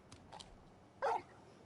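Torgal, a large dog in Final Fantasy 16, gives a single short bark, loud and close, after a couple of faint soft sounds against a quiet background.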